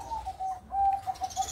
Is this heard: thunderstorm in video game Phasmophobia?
no